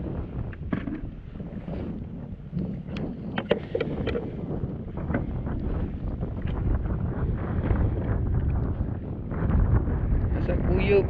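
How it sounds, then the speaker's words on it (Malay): Strong storm wind buffets a kayak at sea during heavy rain, a loud continuous roar and rumble of gusts on the microphone with water splashing, steady throughout and building slightly toward the end. "Basah kuyup, angin padu."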